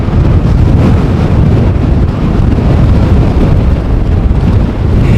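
Strong storm wind at Amsterdam Schiphol airport, a loud continuous roar and buffeting rumble pounding the microphone without pause, with no voices.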